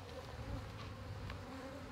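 Honey bees at a backyard hive make a steady, low, faint buzz that holds without a break, with no talking over it.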